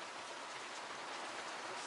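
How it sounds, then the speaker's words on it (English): Steady outdoor rain falls in a dense, even hiss of countless drops hitting surfaces, constant and close with no voices. "It is raining out there."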